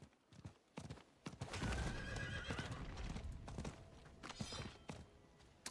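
A horse in the video game Diablo 4 clip-clops along at a steady gait, its hoofbeats close and rhythmic, with a bright neigh rising over the footfalls partway through.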